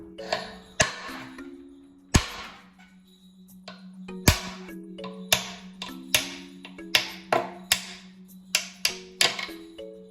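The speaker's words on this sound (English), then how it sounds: "All I'm gonna do is just hit it with the hammer and you'll see it start bending back." Hammer blows striking the front end of a Bird 2/3 scooter housing, a series of sharp metallic hits at irregular intervals with ringing decay and a steady hum underneath.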